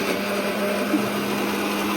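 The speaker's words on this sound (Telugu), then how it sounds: "పెద్దమ్మేమో మిక్సీ పడుతున్నారు అల్లం వెల్లుల్లి పేస్ట్" A steady, loud mechanical whir of a mixer grinder grinding ginger garlic paste, running continuously with a constant high hum and no pauses.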